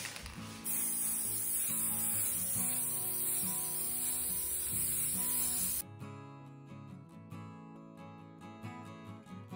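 Aerosol spray can misted over a Dutch pour acrylic painting with butterflies, a steady broad hiss lasting about five seconds over faint background music, then stopping abruptly.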